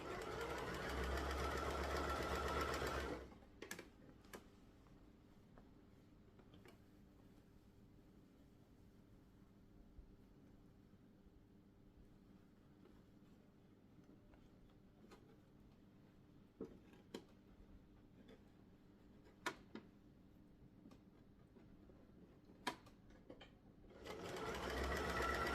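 Domestic sewing machine running in a loud burst at the start and again at the end, with a quiet stretch in between broken by faint clicks and taps while fabric for a scrunchie is handled.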